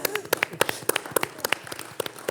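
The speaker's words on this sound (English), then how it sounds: "I'm clapping for a no" A small audience claps in scattered, uneven bursts, the sharp hand claps fairly close but soft, never building into sustained applause.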